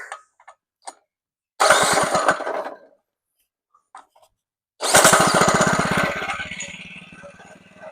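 A go-kart engine spun up with a drill instead of its missing pull-start cover, sputtering briefly before catching and running loudly with a fast steady chug that gradually fades, preceded by faint clicks.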